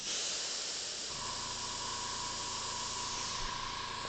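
An airbrush sprays paint in a steady, close hiss for the whole stretch while a Ford F100 rendering is being painted, with a faint tonal whine joining partway through.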